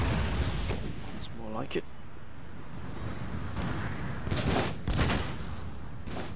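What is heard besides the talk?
artillery barrage in Empire: Total War video game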